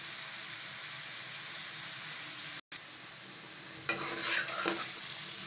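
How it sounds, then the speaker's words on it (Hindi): Sliced tinda (round gourd) sizzle and fry in desi ghee in a pan, a soft steady hiss that grows brighter toward the end as the pieces are stirred. "दो से 3 मिनट और फ्राई करने हैं। देसी घी की खुशबू बहुत प्यारी आ रही है।"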